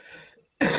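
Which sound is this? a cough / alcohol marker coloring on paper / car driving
a cough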